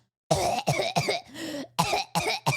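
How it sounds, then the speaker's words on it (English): A rapid series of about seven harsh coughs in quick succession, close and fairly loud, with short gaps between them. "here's my best iPad cough."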